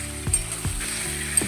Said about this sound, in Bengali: চিকেনগুলো দিয়ে একটু ভেজে নেব